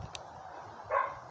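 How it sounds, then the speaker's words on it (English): A neighbor's dog gives a brief, faint yelp or whine from a distance, heard once over a quiet outdoor garden background. "if you hear any crying or like a weird noise, it's my neighbor's dog."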